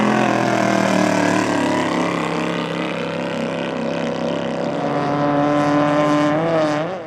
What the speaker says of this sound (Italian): Questo è uno scafo di nocelli con motore BPM di 8000 cm3 di cilindrata